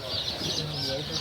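Busy high chirping of about 30 young country chicks in a box, steady and continuous, with a faint voice murmuring underneath.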